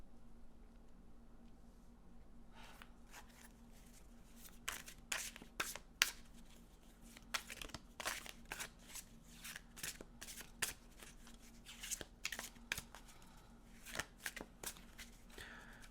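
A deck of tarot cards is shuffled by hand, a quiet run of crisp, irregular card clicks and riffles for about thirteen seconds over a low steady hum, close by, with no talk.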